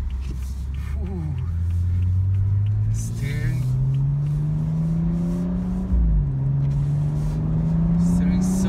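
A BMW M235i xDrive drives in sport mode, its engine a steady close drone that climbs gradually in pitch, dips briefly, then keeps rising, with people talking over it inside the cabin.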